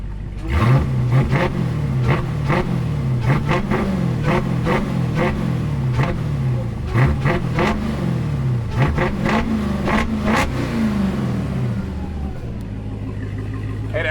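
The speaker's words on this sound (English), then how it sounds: "I'm gonna rev it so you can see the supercharger." A supercharged car engine revving hard in repeated surges with loud, sustained mechanical roar, then settling toward idle near the end, heard up close without talking.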